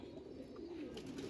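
A rare male pigeon at a Mirpur loft gives a faint, low continuous coo, quiet and unbroken across the moment, with no voices.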